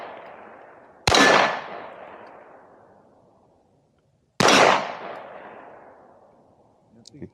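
A Tisas double stack 1911 pistol fires two sharp, loud shots about three seconds apart, each followed by a long fading echo; a faint clink comes near the end.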